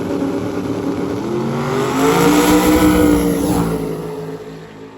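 A loud drag racing car engine roars steadily at a drag racing event, revving higher as it accelerates past, then fading slightly toward the end.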